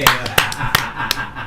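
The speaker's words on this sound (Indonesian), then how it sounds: "Tepuk tangan." A studio audience on a weekend talk show gives a short burst of scattered applause, a few distinct, close hand claps spaced across a second and a half.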